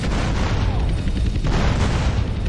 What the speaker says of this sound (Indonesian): Meledak kali.